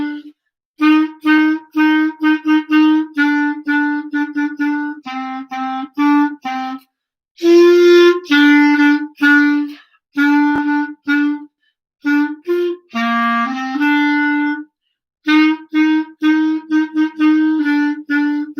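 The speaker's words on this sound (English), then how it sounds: "I'm going to play it for you on the clarinet" A clarinet plays a Christmas melody as a series of clear, separate sustained notes with short pauses between phrases, close and fairly loud in a classroom music lesson, with no talking over it.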